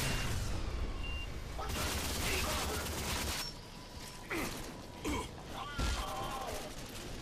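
Gunfire in the shooter game RAGE, a dense burst of rapid shots for the first few seconds, then scattered louder single shots and impacts with quieter gaps between.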